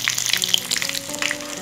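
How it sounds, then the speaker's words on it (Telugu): Tempering spices sizzle and crackle in hot oil, a busy run of sharp pops and hiss heard up close, with no talking. "ఇదిగోండి మన తాలింపు చక్కగా వేగిపోయింది."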